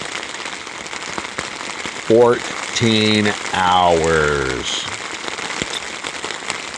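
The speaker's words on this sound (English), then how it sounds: "And you hear the rain? This is actually one of the lighter periods of rain." Steady light rain patters outdoors as a constant hiss, while someone speaks briefly over it.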